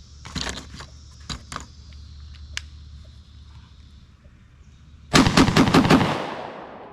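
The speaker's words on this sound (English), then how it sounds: "Let's throw 5 shots in the old Panzer." Five rapid, loud shotgun blasts from an old Panzer semi-automatic on an outdoor range, fired in quick succession after some scattered handling noises.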